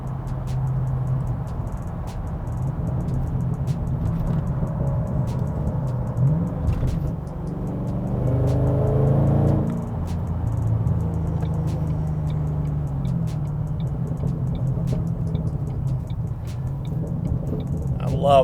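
A Ford Mustang GT with a Roush stainless steel cat-back exhaust cruising on a highway at 2,000 RPM: low, steady exhaust drone, rumbling road noise and faint ticking throughout, with no silence around it.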